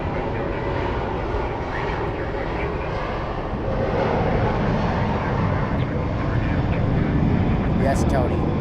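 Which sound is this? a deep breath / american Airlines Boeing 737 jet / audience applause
american Airlines Boeing 737 jet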